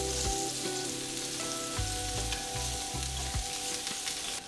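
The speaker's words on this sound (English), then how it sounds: "we are now going to throw in our onions and saute them in the same pan" Onions sauteing in oil in the same pan used for mackerel in coconut sauce, a constant close sizzle with periodic stirring scrapes, steady and fairly quiet, no talking.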